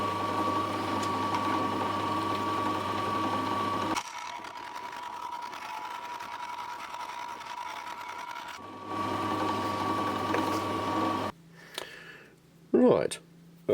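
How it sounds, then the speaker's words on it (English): An abrasive wheel on a rotary tool grinding a V shape into metal for a steampunk weather device: a steady buzzing whir in two bursts separated by a quieter pause, ending with a few scattered clanks. "it's going to be using an abrasive wheel"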